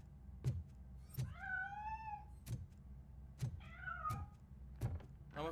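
A cat meows twice, with a long drawn-out call and then a shorter one, amid regular thudding footsteps in the video game RoboCop Rogue City, with no talk.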